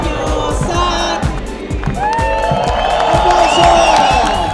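A crowd at a birthday celebration claps and cheers, rhythmic clapping with whoops and shouting voices, loud and close, mixed with people talking.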